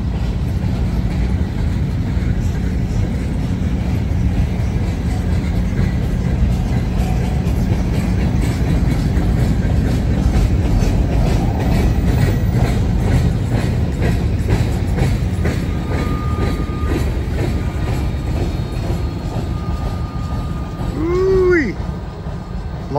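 A freight train rolls steadily past with a constant rumble and rhythmic wheel clatter on a river valley rail line, its last car a tanker, ending with a brief squeal as it clears.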